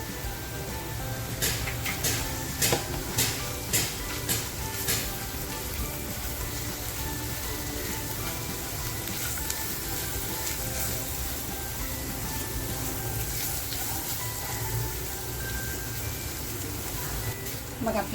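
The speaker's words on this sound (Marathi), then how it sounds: "मसाला असा छान फ्राय झालाय" Homemade all-in-one masala with salt fries in a pan for a clam curry, giving a steady, close crackling sizzle with scattered sharper pops throughout, while someone talks over it.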